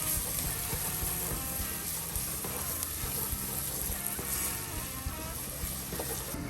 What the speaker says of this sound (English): stir until the sugar has completely dissolved